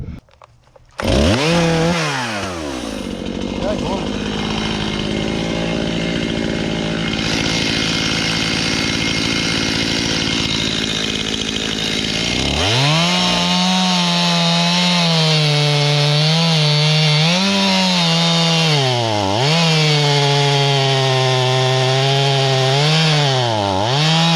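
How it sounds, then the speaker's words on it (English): Chainsaw bucking a large white oak log, loud and close, idling briefly before cutting under full load for a long stretch with the engine pitch dipping and rising as the chain bites the wood. "So I'm gonna go ahead and buck this thing up."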